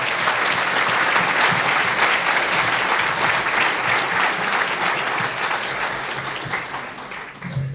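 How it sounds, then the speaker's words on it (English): An audience at a 2013 hospital awards ceremony gives a long round of applause for an honoured volunteer. The dense, sustained clapping is loud and steady, then thins slightly toward the end. "I think she deserves a round of applause."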